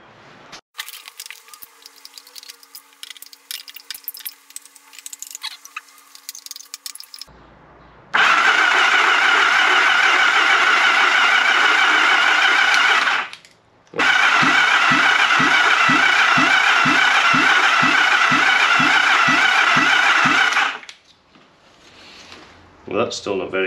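A Yamaha XS750 motorcycle's starter cranks repeatedly with a whirring, rhythmic churn in two long attempts separated by a short pause, without catching.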